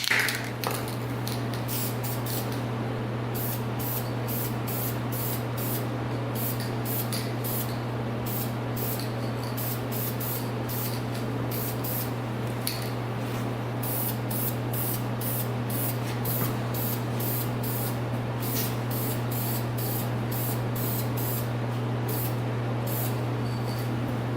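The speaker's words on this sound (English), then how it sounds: "we're going to paint a light first coat" An aerosol can sprays a light first coat of high-temperature paint onto motorcycle parts in repeated short hissing bursts over a steady low hum nearby.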